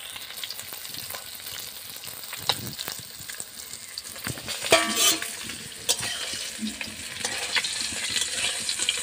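Pieces of rohu fish frying in hot oil in a pan, a steady close sizzle and crackle with occasional scraping and clinks as the pieces are turned and lifted out one by one, no voices.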